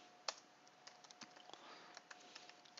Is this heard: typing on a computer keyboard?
yes